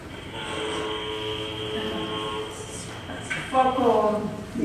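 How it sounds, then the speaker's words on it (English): A long, steady foghorn drone sounds from a seaside setting near a lighthouse, continuous and fairly loud, with a second tonal blast rising over it toward the end. "Foghorn."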